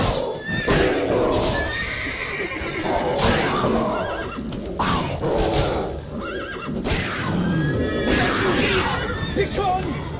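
Horse neighing and whinnying from The Witcher video game, several loud whinnies spread across a busy combat scene with hooves, clashes and shouting voices.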